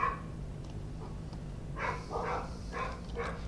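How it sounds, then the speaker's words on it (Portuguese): Neighbourhood dogs barking in the distance, with a faint bark early on and then a quick cluster of four or five barks over a steady low background hum. "Os cachorros estão empolgados aqui porque parece que está tendo uma reunião de cachorros do bairro."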